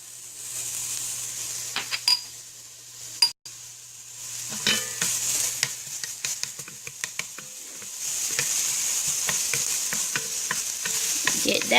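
Garlic hits a hot pan for baked meatball ziti, a steady sizzle with a sharp clatter early on and frequent stirring scrapes and taps, the frying growing louder toward the end.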